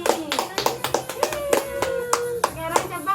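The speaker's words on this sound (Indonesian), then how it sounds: "beri tepuk tangan dulu untuk kelompok Ibu Yuni." Group applause during an adult training session, a room of participants clapping in a rapid uneven patter of sharp hand claps, with some talk mixed underneath.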